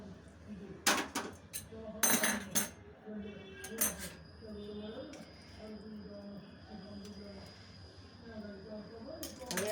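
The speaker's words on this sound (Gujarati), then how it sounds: "હવે આપણે આની અંદર આ દાળિયાને પાથરી દઈશું।" Roasted chickpeas (daliya) scattered onto an oiled plate for chikki, giving a few sharp clattering rattles and clinks of small hard pieces against metal, with a voice talking underneath throughout.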